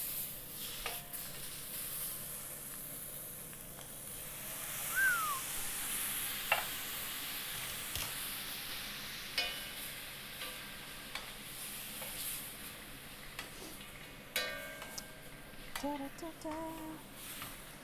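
Rice toasting in a pan for a Thai beef salad, a faint sizzle with occasional scraping stirs and light clinks, quiet and close with soft voices in the background.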